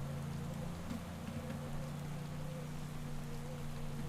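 Steady rain from the Pro Cycling Manager 2015 video game during a hard stage, a continuous hiss of falling drops over a low engine-like hum, even in level throughout with no talking.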